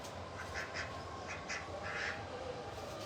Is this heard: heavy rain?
no